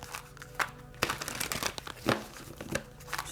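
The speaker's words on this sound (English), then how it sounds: "I'm going to get a few more shuffles" A tarot card deck is shuffled close up in quiet, irregular bursts of crinkly riffling and soft slaps over about three seconds, with no talking.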